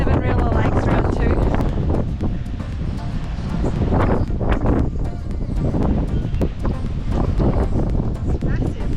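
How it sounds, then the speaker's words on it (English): Strong gusts of around 40 knots batter a hilltop fortress in Bulgaria, a loud, constant roaring buffet of wind with voices partly buried beneath it. "40 knot wind up here."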